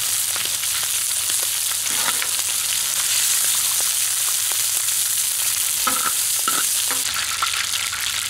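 Lamb heart and offal sizzling and frying in a pan while being stirred, a steady loud hiss with scraping clinks of the utensil, no talking.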